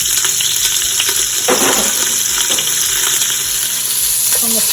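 Sausage sautés in hot reserved bacon fat, giving a loud, dense, continuous sizzle close up, with occasional brief scrapes and clicks from stirring, and no talking.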